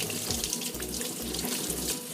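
Tap water runs steadily into a sink as an onion is washed by hand, a continuous close splashing hiss with slight surges, no voices.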